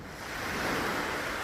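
Surf washes in on Bambolim Beach in Goa as a steady, broad rush of breaking waves that swells slightly, mixed with some wind noise and no voices.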